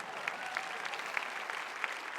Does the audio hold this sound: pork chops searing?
no